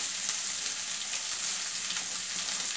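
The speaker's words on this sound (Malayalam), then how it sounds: "നമുക്ക് ഇതിലേക്ക് ഇനി സവാള ഇട്ട് കൊടുക്കാം" Five small onions sliced paper-thin hit hot spice masala for an egg roast, giving a steady, close, even sizzle of frying throughout with no talking.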